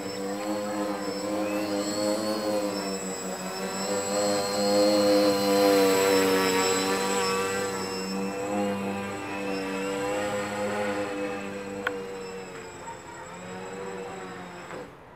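A quadcopter drone carrying a banana for food delivery lifts off and flies, its steady multi-rotor whine and buzz holding loud and close throughout with slight swells in pitch.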